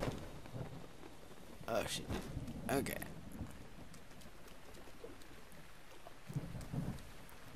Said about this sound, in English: It's starting to rain, I can't climb now.